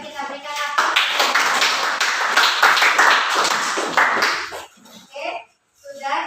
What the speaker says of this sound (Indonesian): Ya, kita berikan aplaus.